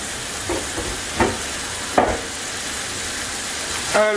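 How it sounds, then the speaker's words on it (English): Ground beef dropped into a hot pan for homemade lasagna gives a steady broadband sizzle and crackle, with a few louder spits and stirring clatters near the start and end, heard alone without talk. "Once your pan is hot, you drop that good old hamburger, ground beef, over in there."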